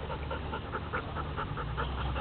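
A dog pants in quick, steady, soft breaths, close by and faint, continuing evenly without a break.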